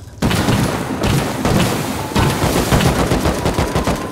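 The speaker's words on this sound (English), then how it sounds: "The incendiary bullets cut through the heavy plate like a hot knife through a butter" Incendiary rounds fire in sustained automatic bursts during a raid in the game Rust, with heavy, booming reports packed into continuous gunfire and brief gaps between bursts.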